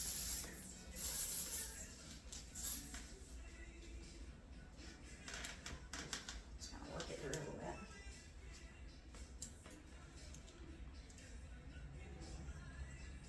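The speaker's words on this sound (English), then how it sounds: "and I'm just going to spray it" Amika Shield anti-humidity hair spray sprays from the can in a few short hissing bursts near the start, followed by quieter rustling and a soft sliding sound, with a voice talking faintly throughout.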